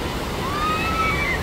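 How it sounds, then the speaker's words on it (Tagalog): Big ocean waves at a beach produce a constant loud rushing roar of surf with no breaks, a thin high whistle drifting faintly over the top. "Ayun o, lalaki ng alon."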